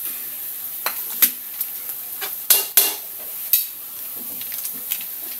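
Corned beef fried rice toasts in a pan with a soft continuous sizzle, broken by scattered sharp clinks and scrapes of a metal spatula against the pan, close by.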